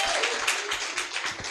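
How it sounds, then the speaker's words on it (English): Brief burst of audience applause for the MC at the Kisumu ICON Data Summit 2024, a dense wash of clapping from a conference crowd, steady and fairly close throughout. "A round of applause for her"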